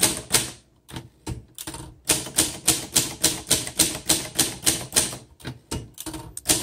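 A 1960 Adler Primus typewriter clacks out a close, fast run of sharp keystrokes in a fairly even rhythm, with brief pauses between bursts and no voices.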